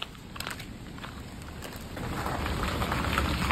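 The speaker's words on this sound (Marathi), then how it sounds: "पाऊस आला." Rain falls steadily, a dense patter that grows a little heavier toward the end, with no talking.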